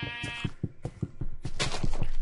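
Sheep bleating in the Minecraft video game, a wavering bleat followed by rhythmic rapid thuds, close and fairly loud with no talk.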